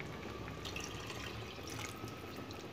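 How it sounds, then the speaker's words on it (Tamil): Coconut milk poured into a pot of tomato and greens soup, a soft, continuous liquid trickle with faint splashes, quiet and close, no talking. "இப்போது நம்ம தேங்காய் பால் சேர்த்துக்கலாம்."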